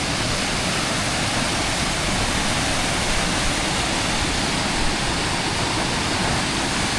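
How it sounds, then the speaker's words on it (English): River cascades at Glen Etive, Scotland, rush in a loud, constant roar of falling water, close by and unbroken, with no voices. "Glenateve in the background in front of these lovely cascades"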